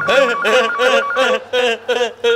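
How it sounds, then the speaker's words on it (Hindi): A telephone rings in a comedy sketch with a loud, close electronic ringtone in five regular repeating bursts, with a voice heard over the ringing. "भाई फोन भाई"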